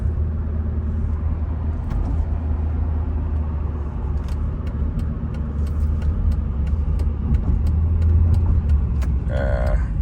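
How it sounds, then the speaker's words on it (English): A 2009 Mercedes-Benz SL550 on stiff coilovers cruises with a steady low engine rumble and road noise from inside the cabin, with faint clicks and a brief whine near the end. "The car drives very nice."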